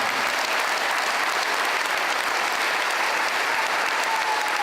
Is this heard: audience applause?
yes